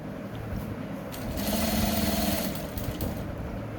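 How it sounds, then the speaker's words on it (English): A sewing machine stitches fabric over the elastic at the back of kids' shorts, running in a fast, whirring burst mid-clip above a quieter background hum, with no speech. "So make sure you drag the fabric very well and stitch all through to this very point."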